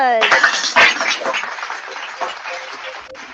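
Applause in a live-streamed vlog, a short burst of clapping that fades over about three seconds with some voices mixed in.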